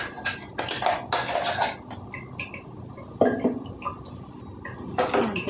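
Chicken capsicum gravy paste going into hot oil in a cooking pan, with repeated metal scraping and clinking of a spoon against the pan in irregular bursts, close and fairly loud, no talking.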